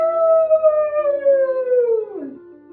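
A person imitates a wolf with one long, loud howl at the full moon during a kids' yoga story time, the tone sliding slowly downward before breaking off.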